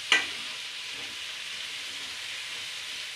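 Food sizzles in a pan with chopped green chillies in a home kitchen, a steady soft hiss after a brief clatter at the start, with no talking.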